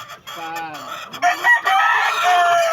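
A gamecock rooster crows nearby, then gives a few clucks and short calls, loud and close, with no talk over it.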